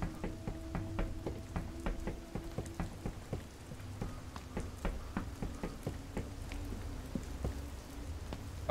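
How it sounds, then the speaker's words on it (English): Heavy rain in the video game Fears to Fathom: Ironbark Lookout patters steadily with scattered sharp drips and taps, a continuous wash of drops with no voices. "This is a torrential downpour."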